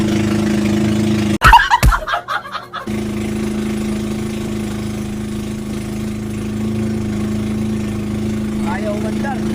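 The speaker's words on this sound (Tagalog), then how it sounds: "namamalya yung makina" A boat engine misfires and struggles to start, with a short ragged burst of sputtering bangs followed by a steady low droning hum that continues to the end.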